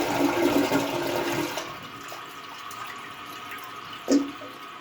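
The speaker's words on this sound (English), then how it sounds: "when you pull down on it, it flushes" A high-tank pull-chain toilet flushing, with rushing water that fades into a softer trickle and refill, followed by a brief clunk near the end, close and alone.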